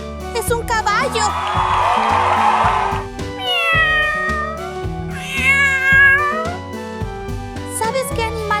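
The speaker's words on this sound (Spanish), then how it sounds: "¡Es un gato!" A cat meows several times, with clear rising and falling cries over light background music in a kids' guess-the-animal game.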